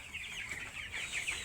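Sonali chicken chicks at a wholesale chick market make a dense, busy chorus of high peeping chirps, continuous and overlapping, moderately quiet.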